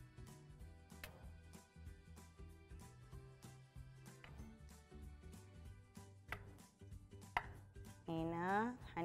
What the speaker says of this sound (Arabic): هنا هنبدأ نقطعها